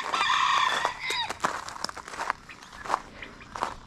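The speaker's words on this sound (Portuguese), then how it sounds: "Olha os gansos com os filhotinhos." Geese with their goslings at a farm give a burst of close, nasal honking calls at the start, followed by scattered shorter cries, light footsteps and rustling.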